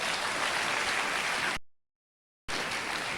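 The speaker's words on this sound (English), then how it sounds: "Shall we give ourselves a big round of applause?" Dense applause fills the hall at a university congregation ceremony, a steady hiss of many hands clapping that cuts out completely for about a second, then returns at the same level.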